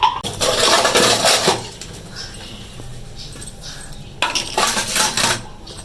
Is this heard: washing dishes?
yes